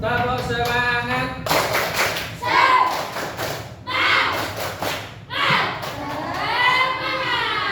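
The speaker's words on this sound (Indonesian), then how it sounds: "Tepuk semangat." A class of children claps in a rhythmic 'tepuk semangat' routine, bursts of claps and thumps alternating with group chanting in quick patterned sections.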